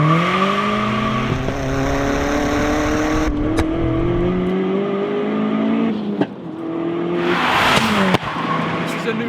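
A Stage 2 Golf Mk4 GTI launches hard in first gear, engine revving loudly with rising pitch, then shifts and keeps accelerating, with tire noise near the end; loud and close throughout.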